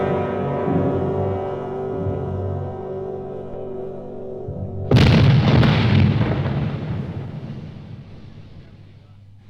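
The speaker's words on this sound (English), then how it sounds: "That was the cannon on the Chateau d'If." A sudden heavy boom of cannon fire from the Château d'If cuts through a low sustained tone, then rumbles and slowly fades away.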